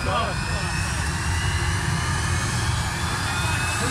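A jet engine fitted to a Volkswagen split-window pickup runs with a continuous loud roar and high whine, steady and close, with no breaks across the whole stretch.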